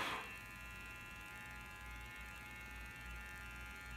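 An electric trimmer buzzes steadily while shaving hair off fingers, a close, even electric whine with a louder start, alone without talk.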